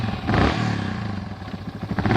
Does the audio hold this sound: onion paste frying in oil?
no